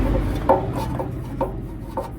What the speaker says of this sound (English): we're just screwing this bad boy back in